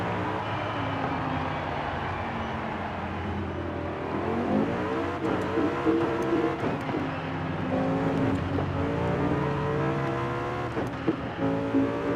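A 2020 Mercedes-AMG C63 S in Forza Horizon 5 revs hard and accelerates, its engine note rising and falling through repeated loud sweeps with crackling exhaust pops, continuous and close.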